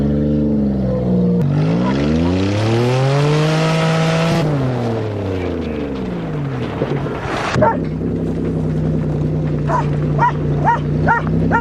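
A manual Toyota accelerates hard, the engine pitch sweeping up and falling back, then settling into a steady drone, loud and close, with a dog barking and voices in the background.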